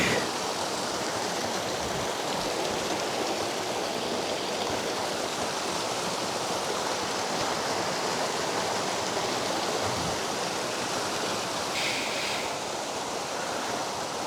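Steady roaring rush of falling water from a waterfall, loud and continuous throughout, with no voices.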